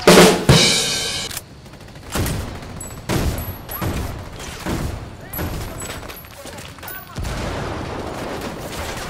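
Heavy gunfire in the video game Ghost Recon Wildlands: loud, dense automatic bursts and booming shots follow one another for the whole stretch, with only brief dips between volleys and faint voices underneath.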